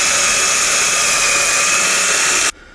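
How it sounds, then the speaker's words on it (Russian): A power drill whines loudly and continuously, boring out a seized, rusted nut on a Ford Focus stabilizer link, then stops abruptly near the end, leaving a quiet background. "Вот сейчас вот таким способом будем высверливать вот эту"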